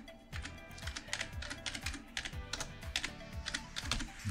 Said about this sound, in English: all you're gonna do is type in the IP and then press enter